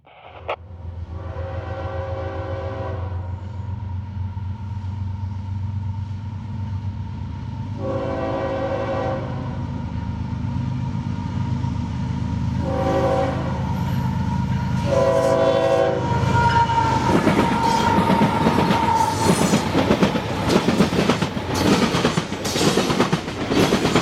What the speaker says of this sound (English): TO82 is an almost daily loaded coal train to Tampa Electric's Big Bend power plant on Tampa Bay.